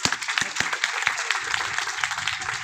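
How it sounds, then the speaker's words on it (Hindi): An audience at a student felicitation ceremony held by a coaching centre claps loudly. Sharp individual claps stand out at first, then blend into steady, dense applause. "सबसे पहले एक बार अपने सम्मान में जोरदार ताली बजा दीजिए"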